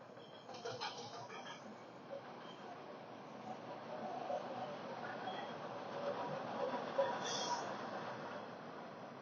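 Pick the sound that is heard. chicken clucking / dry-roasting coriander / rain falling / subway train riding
subway train riding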